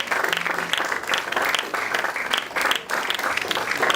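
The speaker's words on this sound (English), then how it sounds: "I think you can continue clapping" Dense, steady applause from a live audience at a civic event, many hands clapping continuously for about four seconds, fairly close and full with no pauses.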